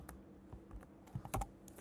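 Keys clatter on a computer keyboard that is faulty, a quick irregular run of soft clicks with a few sharper, louder taps near the end, close up and with no talk.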